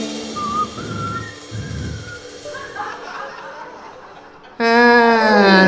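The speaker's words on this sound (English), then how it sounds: "Just purse your lips and whistle" A melodic whistled tune rises and falls over chuckling and soft voices, then gives way to a loud, sustained, tonal passage near the end.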